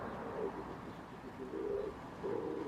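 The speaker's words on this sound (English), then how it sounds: "Can you hear that wood pigeon?" A wood pigeon in a home garden gives three soft, muffled coos at a moderate distance, spaced about a second apart, over a quiet outdoor background.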